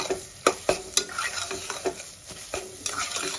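Spice paste frying in a pan with chopped coriander and mint leaves for an egg biryani, stirred with a spoon that clacks against the metal several times over a low sizzle, no talking.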